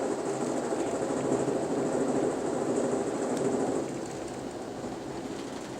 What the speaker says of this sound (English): Before Albuquerque, we meet our counterpart Southwest Chief train number 4.